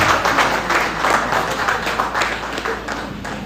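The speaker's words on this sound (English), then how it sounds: "let's give him a round of applause" An audience at a graduation ceremony gives a round of applause, loud dense clapping from many hands that fills the hall steadily and tapers slightly toward the end, with no talking over it.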